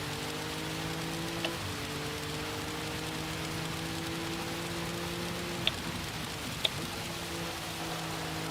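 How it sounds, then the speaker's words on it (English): Steady rain hisses over a wet track in the racing game Gran Turismo 7, a constant wash of noise over droning engine tones, with a few sharp clicks and no talk. "Does this scare anybody, all this rain?"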